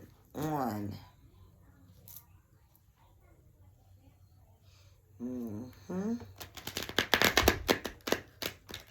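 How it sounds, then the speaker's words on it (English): Cards are shuffled in a fast riffling burst near the end, loud and close, after a person speaks with quiet handling between phrases. "Let me shuffle these real quick."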